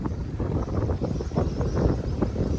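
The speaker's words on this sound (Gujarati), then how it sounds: "પવન બહુ હે આજે" Strong gusts of wind buffet the microphone outdoors near a pigeon loft, producing a rough, rumbling roar that rises and falls in uneven bursts throughout the short stretch.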